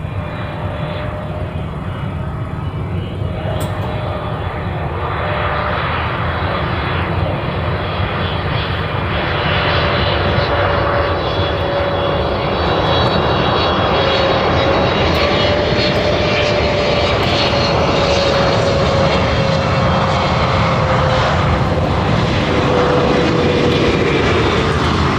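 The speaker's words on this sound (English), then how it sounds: "Another tanker heading out to the reef runway." A tanker aircraft's engines drone loudly and continuously as it heads out to the reef runway at a Hawaii airport during RIMPAC departures, a sustained close roar with a faint rising whine and no talking.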